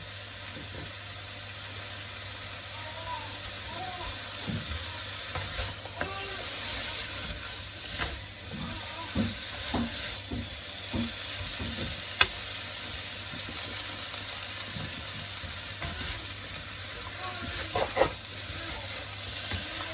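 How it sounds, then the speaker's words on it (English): Noodles stir-fry in an overfilled pan, with continuous hissing sizzle and irregular soft scrapes and taps as they are broken up and tossed, all close and fairly even throughout. "So let's put my noodles in. And break them up a little bit as we go in."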